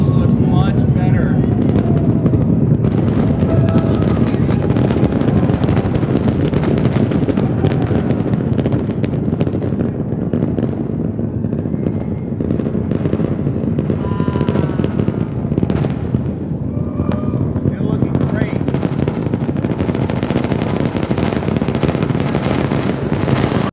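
A deep, rumbling SpaceX Starship rocket engine roar fills the scene continuously, with crackling bursts, while people talk and exclaim excitedly over it.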